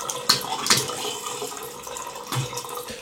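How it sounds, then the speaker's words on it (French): Water runs from a tap into a toilet in an abandoned house under renovation, a continuous splashing gush with sputtering bursts as air clears from the pipes, close and fairly loud. "Je vais laisser couler l'eau le temps que le circuit évacue tout l'air"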